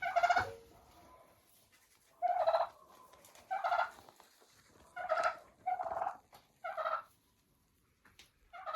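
Turkey on a poultry farm gobbling repeatedly, six or seven loud, close bursts of rattling calls spaced about a second apart, with quiet background between them.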